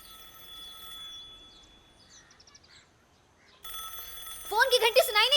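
A telephone rings in bright, repeated electronic trills, starting faint and growing loud and close near the end.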